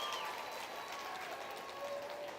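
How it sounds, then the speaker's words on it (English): A crowd applauds the staff who run a fair livestock show, market goat and swine showmanship finals; steady dense clapping fills the whole stretch at a fairly even level. "You need to give them a round of applause."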